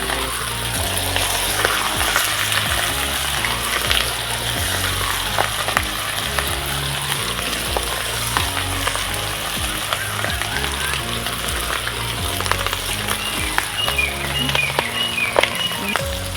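Fish pieces dropped into hot oil, frying alongside a country chicken fry, with a dense, steady crackling sizzle and occasional stirring scrapes, close and continuous.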